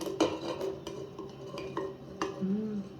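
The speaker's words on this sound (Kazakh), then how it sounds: "Осылай жақсылап араластырып шығамыз" A funchoza glass noodle salad with chopped cucumber is stirred and mixed in a bowl at home, a quiet run of soft scraping and sharp utensil clinks at an uneven rhythm.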